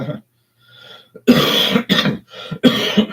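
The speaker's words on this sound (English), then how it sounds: "Then I got this cough that's going away." A few harsh, close coughs in quick bursts, with throat clearing between them and short pauses of quiet.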